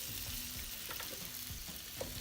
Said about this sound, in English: Let's add our bacon on one side. Let's throw in our Italian sausage.